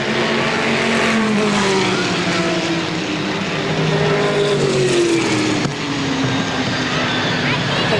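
Race cars roaring around the Motordrome Speedway oval in a 1992 four-division event, a steady loud engine drone with pitch sweeps as cars exit a turn, under an announcer's continuous commentary.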